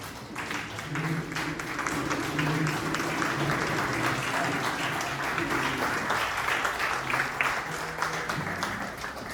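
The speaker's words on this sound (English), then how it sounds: "I want to give this young guy a round of applause." An audience gives a standing ovation at a tribute event, with dense, sustained clapping from many hands filling the room for several seconds while voices carry over the applause.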